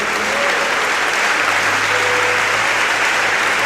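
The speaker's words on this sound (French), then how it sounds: "On peut l'acclamer." Steady, dense applause from a congregation at a French-language church service, filling the whole stretch evenly and loudly with no pauses, faint tonal sounds drifting underneath.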